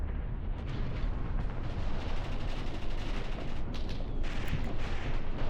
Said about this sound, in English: Bulk just took some good artillery fire here